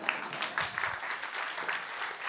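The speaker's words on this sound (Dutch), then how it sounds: "ik bedoelde een daverend applaus" Audience applause at a talk event, a dense patter of many hands clapping, moderately loud and continuous for a couple of seconds without a voice over it.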